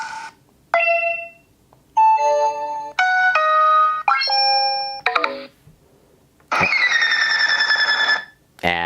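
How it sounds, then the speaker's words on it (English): Phone notification tones previewed during Eufy security camera app setup, a series of clear electronic chimes and beeps in separate bursts with short silences between, ending in a longer ringing tone. "that is my default phone notification sound"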